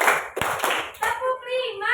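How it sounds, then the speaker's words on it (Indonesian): A school class claps hands in a counted rhythm, sharp group claps landing between children's chanted counting. "tepuk satu, tepuk dua, tepuk tiga, tepuk empat"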